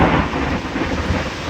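A thunderstorm with heavy rain makes a loud, steady roar of rain and a deep rumble of thunder close by, with no voices.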